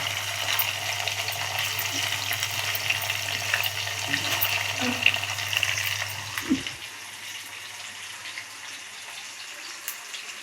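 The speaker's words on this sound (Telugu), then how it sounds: "ఖైమా ఉండలు ఇలా వేయించుకోవాలి" Keema balls of minced meat fry in a pan with a steady, dense sizzle and crackle, then the frying drops to a quieter hiss after a brief stir or clatter.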